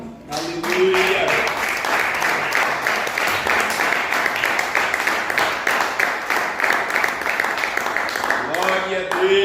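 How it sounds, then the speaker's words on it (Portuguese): A church congregation claps their hands in praise during a worship service, a loud, even rhythm of claps that carries on for several seconds, with voices heard at the start and the end. "Os irmãos podem se assentar, louvar a Deus com as palmas."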